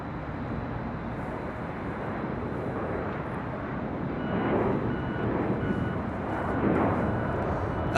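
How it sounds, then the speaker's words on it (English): A Southwest Airlines Boeing 737-700 arriving at Los Angeles International Airport from Oakland, a steady distant jet roar heard from a rooftop that swells a little louder toward the end. "That was Southwest Airlines Flight 3346 coming in from Oakland, California, 737-700."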